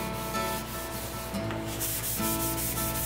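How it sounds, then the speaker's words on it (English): Steady, continuous rasping of sandpaper rubbed back and forth by hand over an epoxy wood finish on a breakfast bar, close and even, with no pauses or voices. "There's a lot of sanding."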